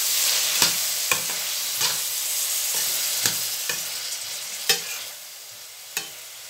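Bean sprouts and tofu stir-fry in a pan with a steady bright sizzle, broken by sharp scraping and tapping strokes of a spatula every second or so, up close and with no talking.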